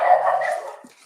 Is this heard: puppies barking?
yes